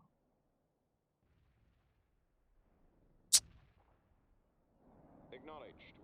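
Artillery strike in the real-time strategy game World in Conflict, a single sharp blast rising out of near silence, followed by low rumbling battle noise and faint crackling.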